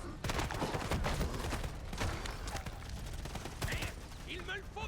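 Rapid bursts of gunfire in Dying Light: The Beast, dense repeated shots over a few seconds mixed with game sound effects and voices talking over them.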